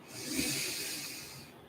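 A deep breath in during a gentle slow-flow yoga session: one long, airy, hissing inhale close to the microphone, swelling and then slowly fading, alone without talk.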